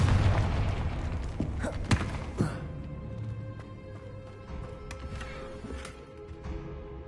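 A Confringo spell blast in the Hogwarts Legacy video game hits with a sharp booming thud, followed by a second, softer impact and a lingering rumble under game ambience.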